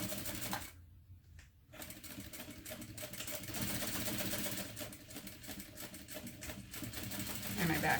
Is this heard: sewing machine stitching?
yes